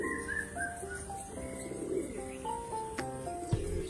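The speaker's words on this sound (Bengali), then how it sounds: "এই যে তাড়াতাড়ি করে পায়রাগুলোকে ছাড়লাম যাতে পায়রাগুলো একটু রৌদ্র পায়।" Pigeons released to sit in the sun coo in soft, repeated overlapping calls at close range, with a brief thump near the end and no talking.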